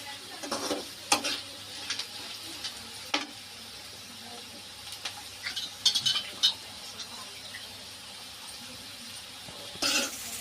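Bitter gourd pieces and onions frying in tempering oil, a low continuous sizzle punctuated by sporadic stirring scrapes and knocks of a spatula against the pan.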